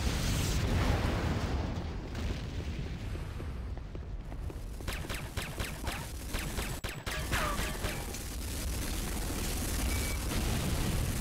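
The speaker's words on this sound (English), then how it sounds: "GDI weapons factory destruction imminent." Explosions and booming gunfire from the Renegade video game as a GDI weapons factory is destroyed, a dense, continuous battle roar with repeated sharp bursts throughout.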